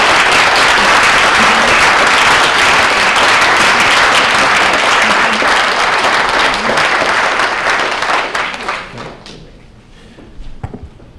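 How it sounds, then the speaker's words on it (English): Loud, sustained applause from a large lecture audience fills the room after a talk, then fades away near the end, leaving a few scattered claps and shuffling. "Can we give her a round of applause for a wonderful talk?"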